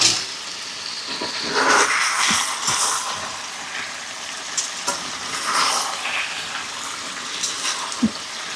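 Plain water poured into a pot of country rooster curry cooking with potatoes and green chilli, a splashing, sizzling pour that swells twice over steady frying hiss, with scattered clinks of utensils.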